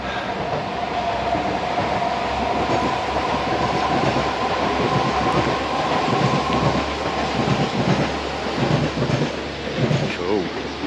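A train rumbles past close by on the Severn Valley Railway, a loud continuous roar with rhythmic clattering of wheels on the rails for the whole stretch.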